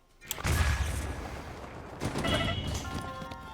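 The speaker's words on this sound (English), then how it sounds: "Go over and then just instantly click and blow up the first bomb" A bomb goes off in the video game Breath of the Wild with a deep, booming blast, and a second, lighter burst follows about a second and a half later, both fairly faint.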